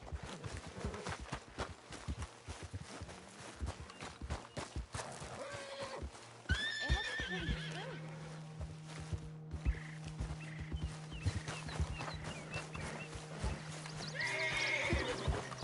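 Horses neigh and whinny loudly over clip-clop hoofbeats and a steady low hum, several calls rising above the busy background.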